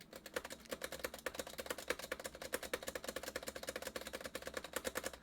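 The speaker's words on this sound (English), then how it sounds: "As you can see, I'm mashing my keyboard." Rapid, dense keyboard mashing during a horse-catching minigame in Black Desert Online: a quick, irregular flurry of clicky keystrokes, close but fairly quiet, with no speech.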